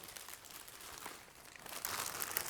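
A plastic piping bag fitted with a nozzle crinkles and rustles softly as pastry dough is pushed into it, a faint, close, irregular crackle with no voices.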